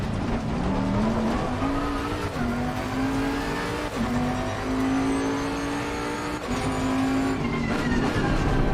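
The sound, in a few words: GT3 race car engine accelerating in the video game Assetto Corsa Competizione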